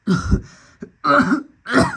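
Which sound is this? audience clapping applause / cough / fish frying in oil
cough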